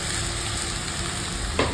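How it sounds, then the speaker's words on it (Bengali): Poppy seed paste fries with tomato in a pan, a loud, close and constant sizzle with a brief stirring scrape near the end. "এখানে টমেটো ভাজা হয়ে গেছে অলরেডি পোস্তটাকে ভেজে দিলাম"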